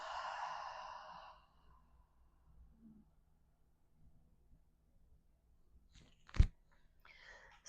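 During a relaxing breathing exercise, a slow exhale of about a second sounds as a soft, close breathy sigh. Near-silence follows, then a sharp click.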